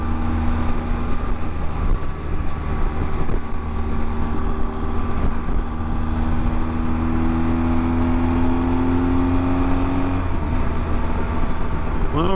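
A BMW R1250GS Adventure motorcycle cruises at steady speed with a constant engine drone, wind rush and road noise, the engine pitch rising briefly near the end.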